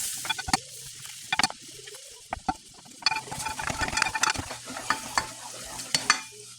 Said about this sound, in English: we're going to be adding in 1 stick of unsalted butter. And we're going to melt that down real quick.